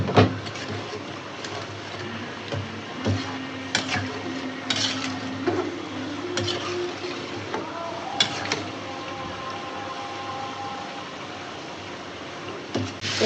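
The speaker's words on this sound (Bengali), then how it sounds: "আলু দিয়ে দিচ্ছি আমি আগেই, আলুটা দেওয়া দেওয়া হয়ে নেয়, একদম ভাজা ভাজা করে কষাচ্ছি, খুব সুন্দর তেল ছেড়ে দিচ্ছি" Beef liver and potatoes frying in oil in a pot, a steady sizzle broken by intermittent scraping and clinking of a stirring spoon against the pan.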